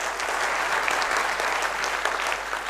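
Audience applause fills a hall at a company seminar, steady and dense throughout, many hands clapping at once with no break and no speech over it.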